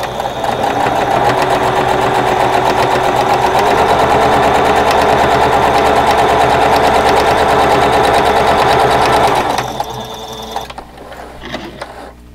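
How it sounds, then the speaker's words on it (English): A sewing machine runs at a steady fast clip, stitching down the edge of a cloth face mask with a pocket; the loud even whirring goes on for about ten seconds, then stops, leaving quieter handling noise. "So I'm going to go ahead and sew that down."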